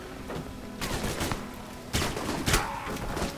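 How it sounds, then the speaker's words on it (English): Tranquilizer gun shots in the video game Alpha Protocol, heard as a few separate sharp bursts of gunfire over a low background of game ambience, fairly loud and close. "Shooting him with the tranquilizer."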